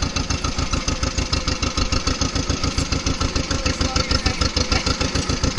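A tractor engine runs steadily nearby, its low rhythmic chugging pulsing evenly throughout without a break, with no speech over it.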